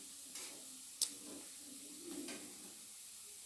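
Jengkol beans frying in oil in a pan, a quiet, steady sizzle and hiss with a sharp tick or clink partway through.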